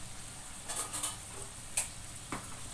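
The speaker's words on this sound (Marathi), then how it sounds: "आता ह्याला आपण हलवून घेऊया चांगलं" Aloo gobi with chilli powder and spices is stirred in a pan over a soft background sizzle, with a few sharp scraping clicks of the spoon against the metal at irregular intervals.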